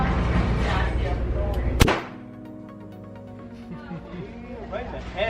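Firearms at a shooting range, including a Desert Eagle pistol and an HK53 rifle: loud rumbling blasts, then one sharp, very loud crack that rings out and decays, with people talking around the shots.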